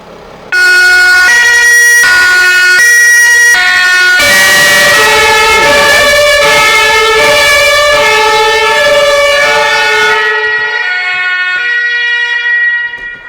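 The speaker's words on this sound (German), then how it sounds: "So, jetzt machen wir mal die normale Sirene an." Standard wailing siren from an ambulance warning light bar fitted to an expedition camper, starting with short stepped tones and then a loud, steady rising-falling two-tone wail close by, cutting off near the end.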